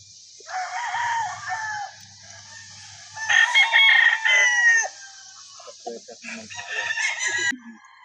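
A seven-month-old Firebird gamefowl stag crows and clucks close by in several bursts, with faint low rumbles between calls.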